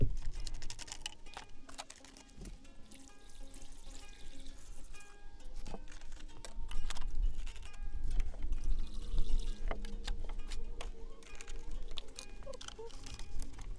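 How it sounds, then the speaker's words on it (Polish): Petrol trickles and splashes irregularly into the fuel tank of an NAC LS50-680-H petrol lawn mower, close by, mixed with plastic knocks and clicks from the can and filler cap, with no voices. "jeszcze tylko nalewać, nalać należy paliwa"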